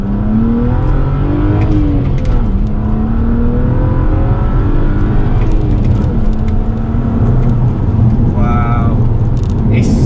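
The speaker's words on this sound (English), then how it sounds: "standing start, let's see what this car can do" A stage 1 tuned BMW 335i pulls away hard from a standing start, its engine note rising loud and continuous through the gears. A voice is heard over the engine.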